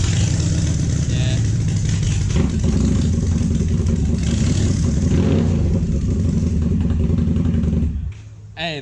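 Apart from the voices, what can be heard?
motorcycle revving with Two Brothers Shorty full system exhaust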